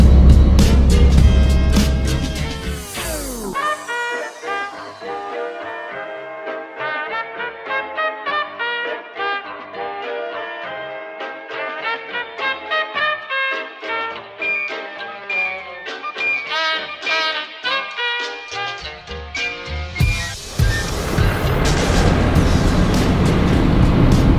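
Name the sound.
4WD vehicle driving along a sandy beach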